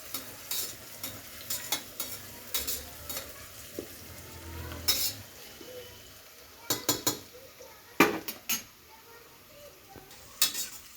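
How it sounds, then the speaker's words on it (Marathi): Thinly sliced onions frying in a pan for a chicken gravy, with soft sizzling underneath and repeated scraping, clinking stirs of a spoon against the pan coming in irregular bursts. "कांदा चांगला असा लाल होईपर्यंत चांगला भाजून हलवून घ्यायचा आहे।"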